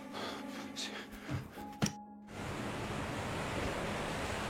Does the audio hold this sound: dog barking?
no